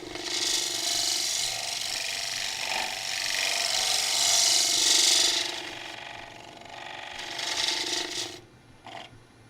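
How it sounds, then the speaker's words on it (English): A scraper cuts a cypress hollow form on a running wood lathe, producing a loud, continuous rough scraping hiss that eases off, then returns in shorter bursts toward the end. "just because this is a scraper, it is cutting quite quickly"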